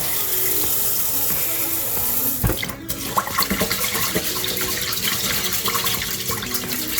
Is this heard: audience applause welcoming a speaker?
no